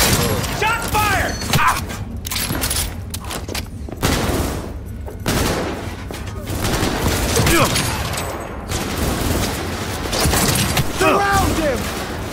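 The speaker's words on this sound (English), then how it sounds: "Shot fired!" Rapid bursts of automatic gunfire and single shots crack repeatedly during a firefight in the video game Cyberpunk 2077, loud and dense, with shouted voices mixed in between volleys.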